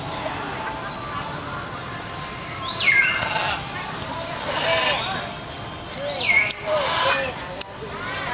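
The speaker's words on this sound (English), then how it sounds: "Oh, macaw. Blue and yellow macaw." Blue and yellow macaws at Hanoi Zoo give two harsh, rising squawks some distance away, with faint crowd chatter and other bird calls in the background.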